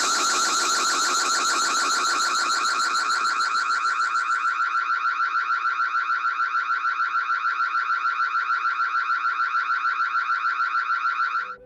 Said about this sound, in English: The car alarm goes off, giving him a fright to remember.